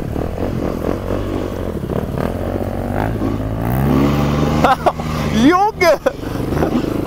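A motorcycle on a beach revs hard and its rear wheel spins in the sand. The engine drones and then climbs in pitch while voices shout excitedly over it.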